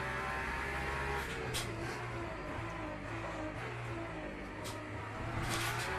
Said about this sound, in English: we're in the Aston Martin Valkyrie at SimRig, a nice bumpy track to test it.